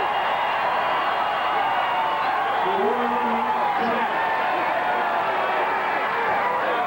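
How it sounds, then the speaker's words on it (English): A crowd cheers steadily at the 1994 AVP beach volleyball final in Clearwater, a broad, continuous roar of many voices that stays at an even level throughout. "The crowd likes that."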